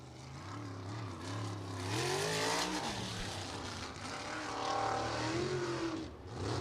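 A USAC sprint car races around Lincoln Park Speedway, its engine rising and falling in pitch as it accelerates through the turns, loud and sustained, swelling to a roar as it passes.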